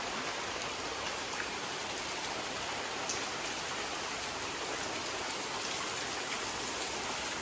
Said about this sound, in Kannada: ನೋಡಿದ್ರೆ ಮಳೆ ಬೀಳ್ತೈತೆ